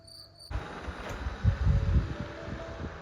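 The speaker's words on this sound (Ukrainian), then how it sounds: "Ви чуєте цей божественний звук? цвіркунів." Crickets chirp steadily in the background of a village at night, a faint high trill running throughout, while low wind rumble and handling noise rise over it after the first half second.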